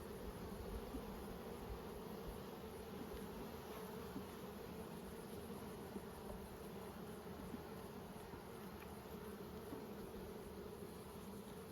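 Dense, steady buzzing of many honey bees around open nucleus hive frames heavy with honey, a close, continuous hum without talk.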